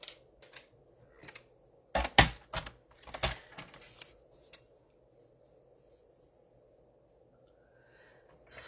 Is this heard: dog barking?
no